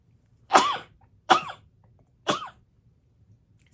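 Three sharp sneezes from a person, spaced apart and loud against a quiet room.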